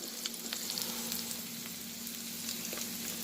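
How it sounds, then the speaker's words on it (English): Green onion frying into fried rice on a grill top, a dense steady sizzle with faint scraping stirs, close and continuous. "So we caramelize it, alright? We add in some green onion now."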